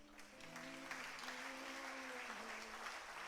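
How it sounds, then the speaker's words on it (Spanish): A church congregation claps together in sustained applause for a few seconds, with faint voices and a held tone underneath. "Dale un aplauso al Señor."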